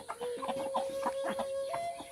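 Chickens clucking in a rural yard beside a forest home, with repeated close, fairly quiet clucks and calls over a faint steady hum.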